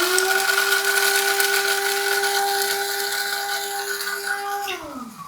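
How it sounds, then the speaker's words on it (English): An electric coffee grinder whirs through coffee beans with a steady high-pitched motor whine close up, then winds down sharply as it shuts off near the end. "I got my coffee grinded up"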